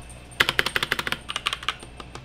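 Fast, crisp keystrokes on a WEIKAV 68 mechanical keyboard, with about fifteen close, evenly paced clacks in a steady typing burst and a quiet background.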